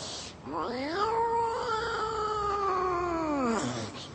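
A drawn-out, wavering cat-like yowl held for several seconds, loud and close, sounding like a person imitating a second cat's meow rather than a real animal.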